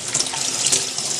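Tap water running steadily into a sink, a continuous close hiss and splash with no voices.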